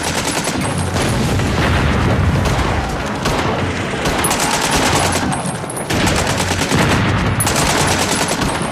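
Dense machine gun fire and explosions sweep across a WWI trench battlefield in No Man's Land, a loud continuous roar of rapid bursts and booms with brief gaps, no voices.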